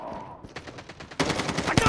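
Rapid bursts of automatic gunfire ring out in the Call of Duty Mobile video game, the shots growing louder and denser near the end of the brief clip.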